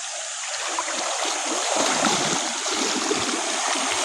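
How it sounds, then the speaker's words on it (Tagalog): A strong stream current rushing past, a steady close roar of flowing water with constant splashing texture and no pauses. "Lakas ng agos guys."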